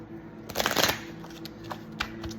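Tarot cards are gathered and shuffled in one short papery flutter lasting under a second, followed by faint taps and handling over a low steady hum.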